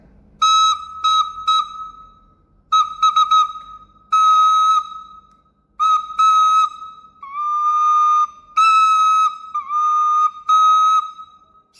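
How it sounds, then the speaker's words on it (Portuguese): The mouthpiece of a recorder is blown alone, producing clear whistle-like tones in a series of short bursts and longer held notes, some pitched slightly lower, separated by brief silences. "Percebam que eu emiti 2 sons agora, dessa última vez que eu trabalhei aqui com o bocal da flauta"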